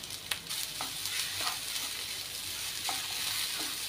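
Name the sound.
plantain and coconut frying in ghee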